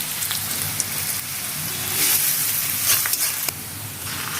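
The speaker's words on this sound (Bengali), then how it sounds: "পেঁয়াজ কুচিটা নেড়ে চেড়ে নিচ্ছি তেলের মধ্যে।" Chopped onion sizzling as it is stirred in hot oil, a steady loud crackling hiss with small pops and scraping swells, close up and continuous with no talk.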